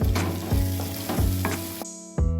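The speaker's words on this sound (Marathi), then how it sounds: "आता आपला कांदा, टमाटर, अद्रक, लसूण हे चांगलं फ्राय झालं आहे." Loud, close sizzling of onion, tomato, ginger and garlic frying in a pan, with rhythmic scraping strokes of a spatula stirring through it; no talking.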